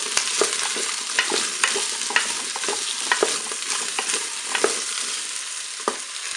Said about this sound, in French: je vais les faire revenir un petit peu dans mon huile